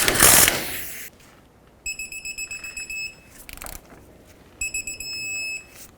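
A torque wrench tightens a tie rod nut through the steering knuckle of a 1997-2003 Ford F-150, giving a short rattle followed by two separate bursts of steady, high electronic beeping, fairly close.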